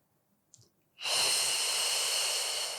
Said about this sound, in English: So we inhale, expanding the ribs, the belly. And exhale, let it deflate.